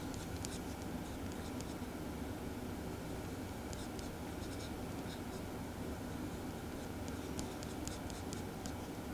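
Pencil strokes sketching lips on paper during a head and face anatomy drawing, a steady close scratchy scribble with short bursts of quick hatching over faint background rumble.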